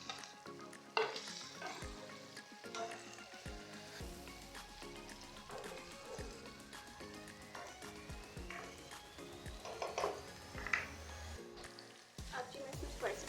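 Tomato and green chili frying with onions in a pan for dhaba-style mixed dal, a faint steady sizzle with soft stirring clicks, accompanied by background music.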